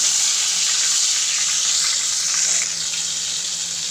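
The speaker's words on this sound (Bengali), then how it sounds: "মাছগুলো ভেজে নেব" Fish frying in a pan in a Bengali home kitchen, giving a steady, close, broadband sizzle and hiss that continues evenly throughout with no talking.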